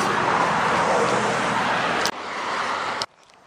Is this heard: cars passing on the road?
yes